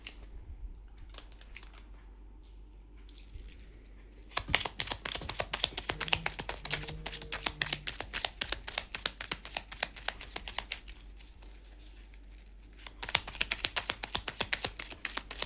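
Tarot cards shuffled and drawn, producing dense bursts of rapid close clicking and riffling that run for several seconds, with quieter gaps between them over a faint steady hum.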